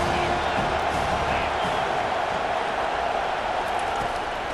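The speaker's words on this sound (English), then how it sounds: "how nice is it to have the home crowd going absolutely bananas?" Home crowd in a College Football 25 video game roaring steadily throughout, a dense, continuous wash of stadium noise with no distinct voices standing out.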